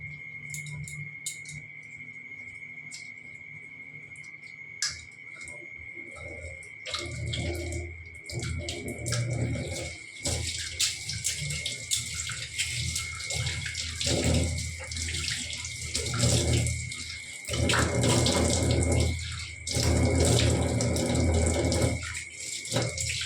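Tap water runs steadily into a sink during face washing, a continuous splashing stream that grows louder and more broken partway through as hands move under it, with a faint insect-like chirp in the background.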